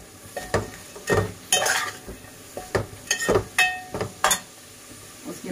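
Shredded cabbage is stirred through a pan of frying vermicelli pulao, each spoon pass a short scraping rustle with soft sizzle in between, close and moderately loud, repeating about a dozen times.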